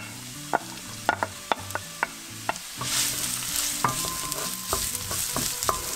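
Onions drop into hot olive oil in a large pan: a few sharp clicks and taps, then a sudden, steady sizzle that swells up close and keeps hissing to the end.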